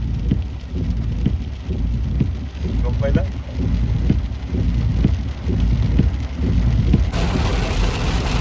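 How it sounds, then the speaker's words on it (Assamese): Heavy rain pours steadily on a road trip near Phe Phe Waterfall in Jowai, Jaintia Hills, Meghalaya, a dense continuous wash with a short burst of voices partway through. "এইফালে বহুত বেছি বৰষুণ হৈ আছে, হেভি ৰেইনফল হৈ আছে"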